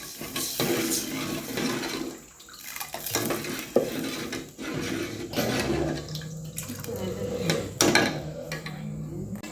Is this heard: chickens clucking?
no